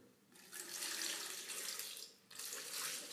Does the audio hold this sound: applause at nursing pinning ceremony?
no